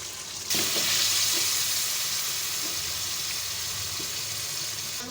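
A loud burst of sizzling as tomato paste hits frying potatoes in a hot pan, the hiss settling into a steady close fry with a few soft stirring knocks, no talking.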